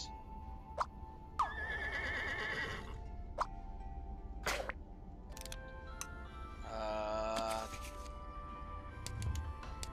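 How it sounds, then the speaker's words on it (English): A cartoonish horse whinny from the video game Scribblenauts Unlimited sounds twice amid game chimes and effects, with a faint clip-clop, while a person talks over the gameplay. "A horse."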